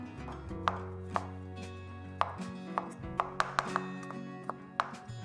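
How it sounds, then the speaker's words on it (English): A knife taps sharply on a cutting board in irregular, quick chops, finely chopping garlic, close and clear over a low background hum. "So finely chop your garlic."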